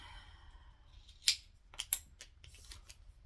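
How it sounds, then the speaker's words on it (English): Scissors snip sewing thread in a sewing room, giving two or three sharp, close cutting clicks after a soft rustle, with no talking. "I'm just going to snip it"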